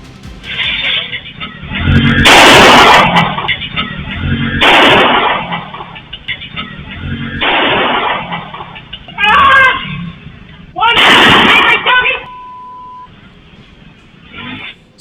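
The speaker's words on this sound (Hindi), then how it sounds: "16 राउंड फायरिंग की।" Gunfire at a house in Morena, with several loud bursts of shots in irregular clusters, each one sharp and heavy, separated by brief lulls and some background voices.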